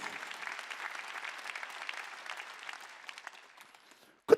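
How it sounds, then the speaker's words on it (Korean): Church congregation at a Sunday worship service applauding God, a broad, dense wash of clapping from a large crowd that slowly thins and fades, ending in one loud close knock. "박수로 하나님께요"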